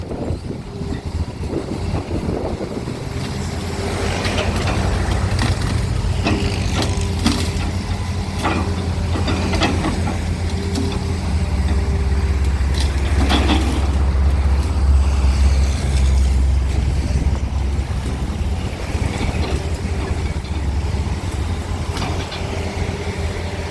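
A backhoe knocks down a row of golden shower trees, its diesel engine rumbling low and steady throughout, punctuated by scattered cracks and thumps of wood breaking.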